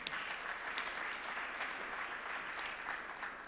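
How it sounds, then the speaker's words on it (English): A church congregation claps together at a service, a dense, steady patter of many hands heard from a distance with no pause over the short stretch. "Let's clap hands for Jesus."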